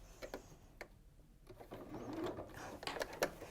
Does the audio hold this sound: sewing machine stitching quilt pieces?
yes